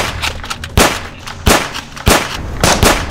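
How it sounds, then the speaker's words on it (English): Nerf blasters fire during a World War 2 style trench battle, cracking out as a handful of sharp shots at irregular intervals over steady outdoor background noise, fairly loud and close. "Because he's shooting at us!"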